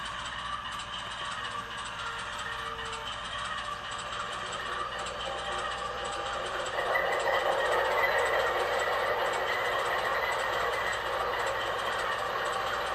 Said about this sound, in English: Now you're gonna hear here when I turn the MTH on, it pretty much drowns out the Scaletrains.